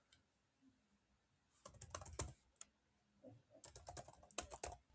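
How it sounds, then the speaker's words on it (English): Password being typed on a computer keyboard, two quick bursts of close, crisp key clicks separated by a short pause, quiet and alone. "I'll type the random password"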